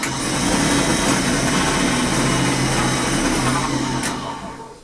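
Electric motor of a John Deere EV conversion running steadily with a dense whirring hum and faint tonal whine, close and constant before winding down at the end.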